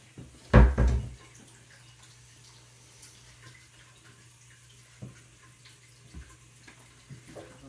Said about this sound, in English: I always do mine straight from the faucet